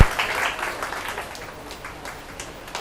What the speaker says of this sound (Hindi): जोरदार तालियां देवांश के साथ